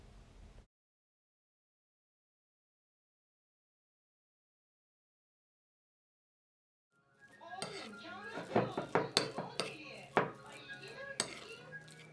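After a long silence, a utensil scrapes and clinks briskly against a bowl while stirring garlic butter with chopped parsley, a busy run of close, sharp taps and rattles.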